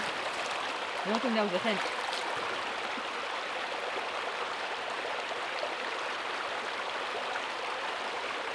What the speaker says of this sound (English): I'm having a wash.